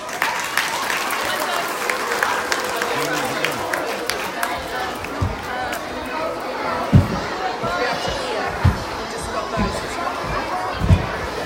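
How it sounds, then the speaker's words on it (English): A school art assembly audience claps in a dense, sustained round of applause that fills the room, with scattered louder claps and crowd chatter underneath. "Big round of applause."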